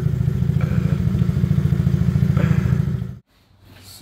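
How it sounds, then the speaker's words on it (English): A small car's engine revs loudly under the throttle, a buzzy mid-pitched drone with rattling clatter that cuts off abruptly near the end, leaving a brief quiet before faint noise returns. "This thing got a real engine in it."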